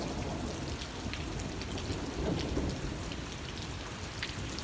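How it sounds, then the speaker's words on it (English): Heavy rain pours steadily with rumbling thunder during a thunderstorm following an April hailstorm, a dense continuous wash with a louder swell midway. "And it's still cracking and thundering everywhere."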